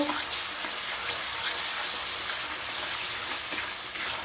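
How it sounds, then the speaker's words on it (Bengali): Spices sautéing in a pan for a fish curry give a steady, fairly loud broadband sizzle that hisses continuously throughout, with no talk. "সব মশলাপাতি দিয়ে দিলাম, এখন একটু কষে নেব"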